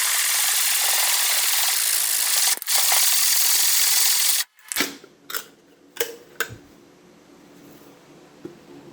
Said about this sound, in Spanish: uno de los métodos más fáciles es utilizar una lija y de esta forma nosotros giramos